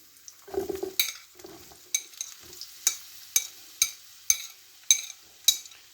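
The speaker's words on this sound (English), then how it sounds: "So let's put the onions in." Onions added to a pan with garlic for egg fried rice with vegetables, a brief sizzle followed by regular scraping stirs, close, roughly one every half second.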